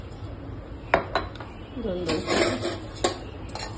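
Coriander and cumin seeds dry-roasting in a hot kadhai, heard as close scraping stirs and sharp clicks of a spoon against the pan, with a soft rattle of seeds and a voice speaking briefly.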